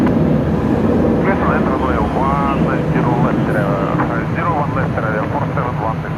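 A large jet at Brisbane Airport drones steadily as it comes in to land on the runway, with the broad engine roar continuous throughout, while people talk over it and radio chatter is heard.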